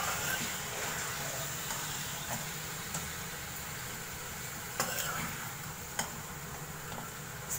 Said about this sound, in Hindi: इसको मैं थोड़ा सा फ्राई करूँगी,